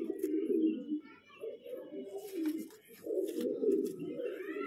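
Pet pigeons kept in Bijnor, Uttar Pradesh, give repeated low throaty coos in overlapping swells, close by, with a few faint background sounds and no clear speech.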